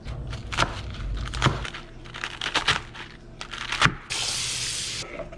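Collard greens and lettuce rinsed under a running tap, leaves crinkling and rustling as they are handled, then a louder steady gush of water into a sink near the end, close and without talk.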